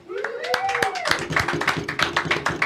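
Applause and cheering from a live podcast audience welcoming a musical guest, rhythmic claps building steadily and continuing at close range with whoops over the top for a few seconds.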